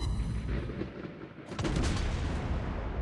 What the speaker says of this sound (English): I'm just going to keep shooting here with my primaries